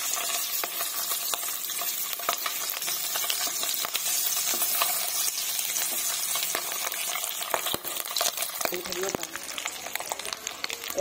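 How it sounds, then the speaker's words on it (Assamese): Eggs fry in oil in a pan, a steady close sizzle and crackle running throughout, with frequent sharp clicks and scrapes of a utensil stirring and turning them. "মই ডিমটো এতিয়া লুটিয়াই আছোঁ, এটা চাইড হৈছে, এইফালেও অলপ টাইম দিব লাগিব।"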